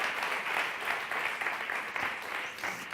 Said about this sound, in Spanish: Un aplauso más.